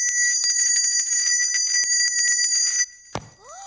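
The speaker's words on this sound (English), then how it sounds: "he felt it was safe to ring the bell" A bell rings rapidly and continuously for nearly three seconds, bright and close, then stops abruptly, followed by a brief thump and a faint squeak.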